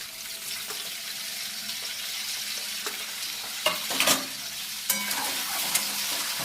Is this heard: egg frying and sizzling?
yes